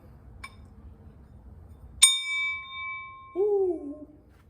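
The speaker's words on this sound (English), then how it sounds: "Here's our dinner bell." A bell rings out once outside a home workshop where aluminum castings are scrapped, a sharp bright metallic strike that rings on and fades. A faint tick comes before it and a short warbling whoop follows.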